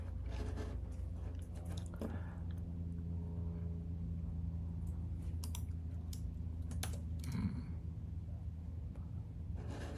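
Computer keyboard typing in scattered clicks and taps over a steady low background rumble, a handful of light keystrokes rather than continuous typing.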